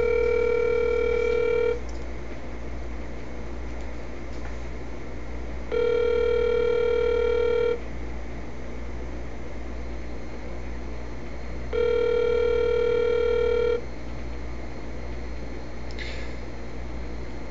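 A phone rings in long electronic tones, three rings spaced several seconds apart, heard through a speaker with a steady low hum underneath.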